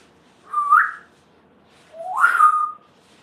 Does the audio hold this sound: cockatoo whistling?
yes